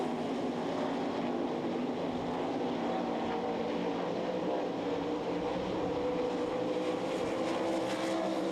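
Sprint cars, 360s, racing together in a heat race at the Knoxville Nationals, a dense sustained engine roar that holds steady throughout, loud and continuous with no break in the noise.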